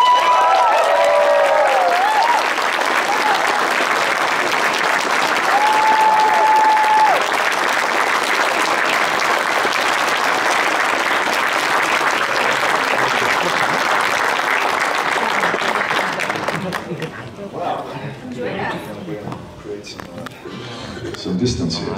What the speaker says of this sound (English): applause for Manu Bennet.